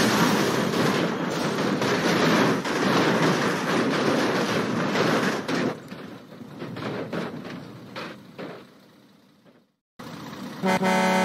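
A train roars past close by with its horn blaring, loud and sustained, then fades before a sudden cut to another loud sound.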